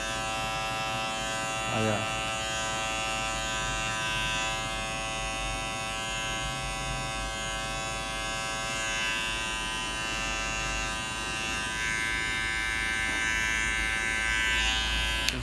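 Electric hair clippers buzz continuously while cutting a quick fade haircut, a steady close-up hum running throughout, with someone speaking briefly partway through.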